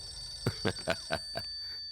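A telephone rings in a scene from a Hindi-dubbed action film: five short, bright ringing bursts in quick succession over a faint steady background hum, with no voices.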